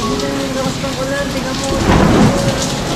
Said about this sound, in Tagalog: nang biglang bumuhusang ulan